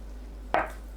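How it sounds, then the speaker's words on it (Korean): A single short knife cut slices through tofu on a board, a quick crisp chop against a quiet background hum. "두부를 길게 반으로 자르고 1cm 두께로 썰어줍니다."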